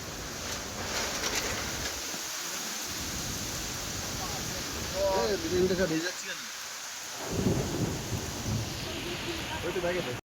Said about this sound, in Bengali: প্রচুর বজ্র পড়ছে, বিদ্যুৎ চমকাচ্ছে